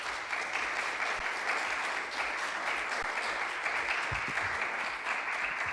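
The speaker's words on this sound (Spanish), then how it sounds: "fuerte aplauso para el profesor Hausmann" Steady applause from an audience for a lecturer, dense clapping at an even level throughout with no voices over it.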